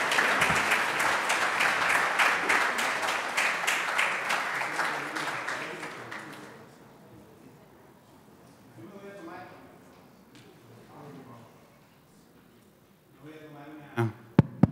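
Audience applause following a lecture at a memorial foundation event, loud and dense for about six seconds, then fading out; softer murmuring and voices follow, with a couple of sharp knocks near the end.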